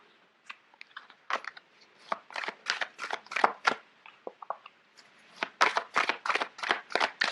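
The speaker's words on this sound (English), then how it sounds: "Sorry, these cards are quite big. It's hard to shuffle." Large tarot cards being shuffled by hand, with close crisp bursts of riffling and snapping card sounds in quick irregular clusters and short pauses between them.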